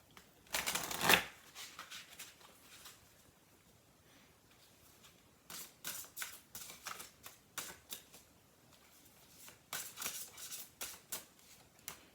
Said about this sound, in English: So let me get you a couple of Witches Familiar Oracle cards.